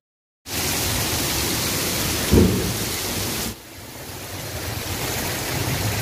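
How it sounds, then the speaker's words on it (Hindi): Heavy stormy rain pours outside a house, a steady loud roar with a brief low thunder rumble midway, after which the downpour continues slightly softer. "बहुत तूफानी बारिश आ रही है और ऊपर जो है बिजली भी चमक रही है"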